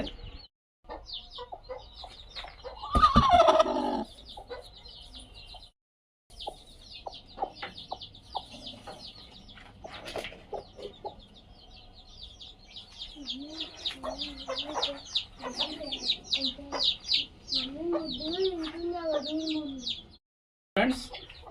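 Chickens cluck and chirp repeatedly at close range, with soft murmurs and short calls scattered across a quiet background, a few louder squawks and occasional brief silences.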